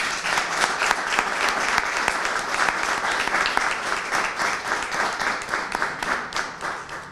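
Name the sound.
audience applause at a book presentation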